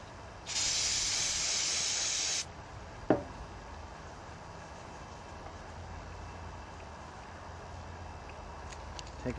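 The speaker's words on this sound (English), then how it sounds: "Clean them with some carburetor cleaner." Carburetor cleaner sprayed from an aerosol can onto motor bearing shields: a single loud, steady hiss lasting about two seconds, followed by a sharp metallic click and quiet workshop background.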